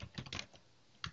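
Quiet keystrokes on a computer keyboard come as a quick cluster of clicks, then a pause and one more tap at the end.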